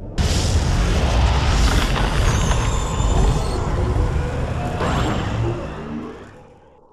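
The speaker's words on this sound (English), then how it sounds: "Left-click on the ion cannon support power and then left-click on the Nod base." Ion cannon strike blasting a Nod base in Command and Conquer 3: Kane's Wrath, a loud, sustained roaring explosion with crackling debris that rumbles on for several seconds before slowly fading out.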